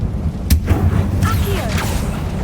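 Bombarda and Confringo spell explosions in the Hogwarts Legacy video game: a sharp blast followed by a booming rumble and scattered crackling debris, heard close and loud over a low game background.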